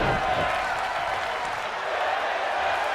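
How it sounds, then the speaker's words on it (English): Arena crowd in WWE 2K23 Universe Mode roaring steadily during a women's wrestling match near-fall, a dense continuous wash of cheering that holds at full level throughout. "the crowd is on their feet"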